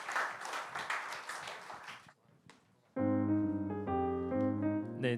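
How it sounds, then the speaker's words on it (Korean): A church congregation at a young adults' worship service applauds in celebration for a couple of seconds, then the clapping stops and sustained organ or keyboard chords take over. "다시 한번 우리 축하의 박수 보내주셔서 감사합니다."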